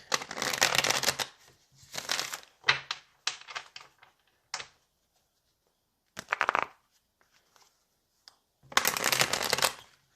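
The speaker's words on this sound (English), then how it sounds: "Let's go ahead and pull some tarot." Tarot cards being shuffled by hand in several separate bursts of crisp riffling and flicking, close and fairly quiet, with short pauses of silence between the bursts.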